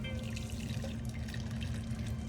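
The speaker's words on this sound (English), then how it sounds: "we're gonna get a cheesecloth and a sieve. And we're gonna strain." Carrot and celery juice straining through cheesecloth over a sieve, a continuous close trickle and patter of liquid with no voices.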